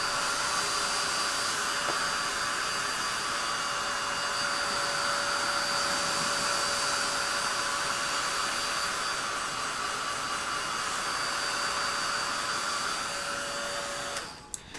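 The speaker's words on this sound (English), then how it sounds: "I'm just going to use my heat gun. And my heat gun will quickly set this." A heat gun drying stamped ink on a mini canvas blows a steady, moderately loud whooshing hum with a faint tonal whine, running continuously before cutting off near the end.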